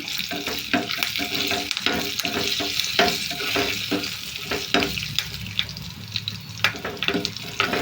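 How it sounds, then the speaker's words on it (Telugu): Cumin seeds, dried red chillies and curry leaves fry in hot oil for a tempering, giving a steady loud sizzle with crackling pops and occasional stirring scrapes throughout, no voices. "ఇంకా జీలకర్ర ఎండుమిరపకాయలు కరివేపాకు ఇవన్నీ ఎదురు వేసుకున్నాం వేసుకుని ఫ్రై చేసుకున్నాం"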